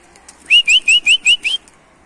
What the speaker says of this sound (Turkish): bango yavrumuz da uçuyor.